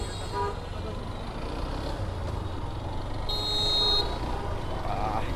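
Street traffic in Cox's Bazar crowded with auto-rickshaws rumbles on steadily, with a short, bright horn toot rising above the engine noise and voices nearby.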